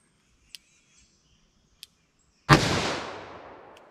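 A single loud report from a .44 Magnum revolver firing a reduced-power 180 grain XTP load, a sharp crack with a long decaying tail, preceded by a couple of faint clicks.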